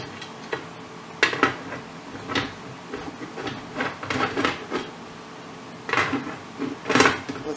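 A metal lid is set onto a pot of green beans being preserved, giving a few sharp clanks and rattles with quieter clatter between them and no talk.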